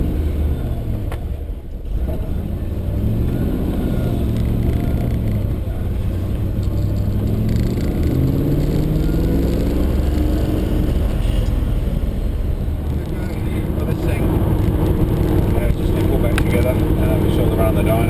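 A 650 rwhp car drives off with a loud, steady low engine rumble and rising revs, heard from close range, with talk over it.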